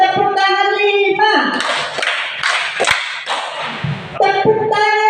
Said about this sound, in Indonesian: tepuk tangan 5